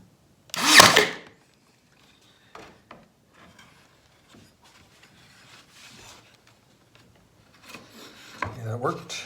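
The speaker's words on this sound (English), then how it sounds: "we'll just try and drive a 1-inch pin nail through there." A single sharp, loud burst drives a 1-inch pin nail into wood pieces laid out for a garden obelisk, followed by quiet handling, shuffling and faint rustling, then a brief clatter near the end.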